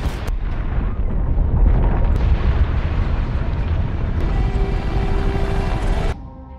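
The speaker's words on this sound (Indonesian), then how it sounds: "hingga ketika bom meledak" A large bomb explosion in the film Spectre (2015) booms and rumbles on for several seconds, a dense roar of debris and fire that drops away sharply near the end.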